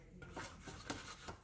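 Spatula scraping around the inside of an Instant Pot, several faint rubbing strokes in quick succession, soft and close.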